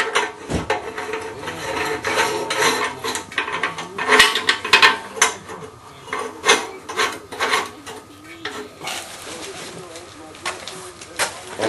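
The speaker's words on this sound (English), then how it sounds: "Then it's just a matter of hooking up the carburetor and then tightening up the couplings." Couplings being tightened on a homemade GEET vapor carburetor, with repeated close metallic rasping, ratcheting and scraping strokes in an uneven rhythm, with some faint background sounds.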